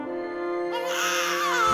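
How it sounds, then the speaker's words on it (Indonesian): A newborn baby's first cry rises loudly over a sustained droning musical pad, the wail starting partway through and swelling in strength toward the end. "Suara tangisan pertama menembus udara malam"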